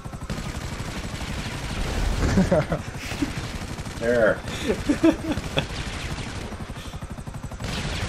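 Rapid gunfire in GTA 5 as players shoot at cars, dense bursts running the whole time under excited talk and shouting.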